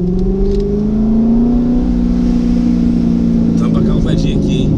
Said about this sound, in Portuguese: o ronco do Corvetão é alto